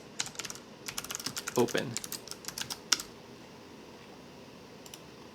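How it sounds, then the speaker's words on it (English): Fingers type on a computer keyboard in rapid, uneven bursts of close clicks for about three seconds, then fall quiet, with a brief spoken word in between. "Okay, I'll type it."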